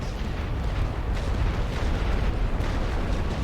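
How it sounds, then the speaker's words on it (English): Artillery bombardment in The Great War: Western Front, a World War I strategy game, rumbling as a dense, continuous roar of overlapping low booms and blasts with no clear gaps, loud and steady throughout. "I'll hit them with more artillery while I'm waiting."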